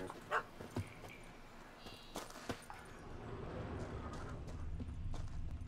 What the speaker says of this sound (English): A guard dog.